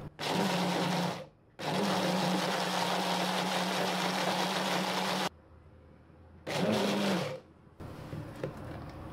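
Potato salad with oil and lemon juice is mixed with an electric blender or mixer, a loud steady whirring motor running in several long bursts with short pauses between, close up and without talk.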